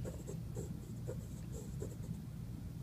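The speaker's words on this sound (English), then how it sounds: "I'm just going to draw an arc that will intersect my line." A pencil compass scratches an arc onto paper in short, faint, repeated strokes, close up and quiet, with no voices.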